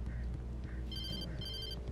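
A telephone rings inside the Alan Wake video game: two short electronic ring bursts, fairly faint, sitting under a dense, steady background rumble.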